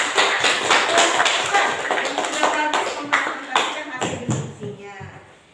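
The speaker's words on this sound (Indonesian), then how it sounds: "Kasih tepuk tangan sekali lagi, Kak." A classroom of students clapping their hands after a group presentation, a burst of close, loud claps that thins into a few scattered taps before fading out.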